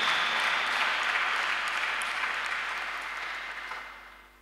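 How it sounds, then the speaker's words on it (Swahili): A church congregation claps in a dense, sustained burst of applause that gradually fades out after a few seconds. "Pigie Yesu makofi mazuri"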